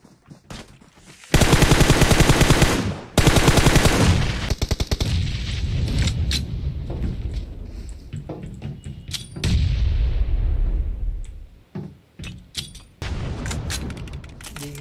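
Gunfire and explosions in an online shooter game: long loud bursts of rapid automatic fire with booming blasts, broken by short quiet gaps, then further shorter volleys.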